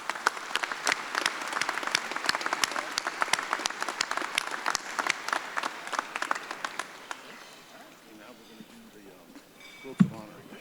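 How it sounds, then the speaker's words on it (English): A large audience at the 2022 Patriot Ball gives a round of applause for a group of gentlemen, with dense, steady clapping for about seven seconds that then thins and fades, followed by a single sharp knock. "Let's give these gentlemen a round of applause"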